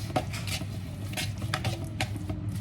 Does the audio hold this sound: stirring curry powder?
yes